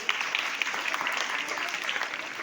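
Students in a school hall applaud a house's weekly performance result, a dense, continuous wash of many hands clapping with faint voices under it.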